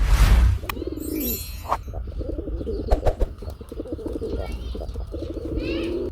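Kakji pigeons, including a solid white pair, coo repeatedly up close. The low, throaty calls come in a loose rhythm after a brief loud burst at the start, with soft rustling between them.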